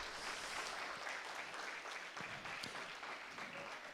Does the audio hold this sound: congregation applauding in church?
yes